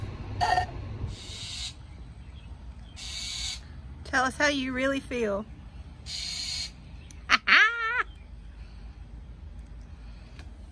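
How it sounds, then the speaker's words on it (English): A bird outdoors gives a few squawking, wavering calls in two separate bursts, fairly close and clear over a steady background hiss. "That bird doesn't like you, guy."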